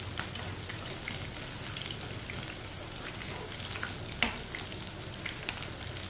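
Crispy okra (bhindi) frying in a pan, a steady soft crackling sizzle throughout with scattered small pops and one sharper tick, fairly quiet and without any voices.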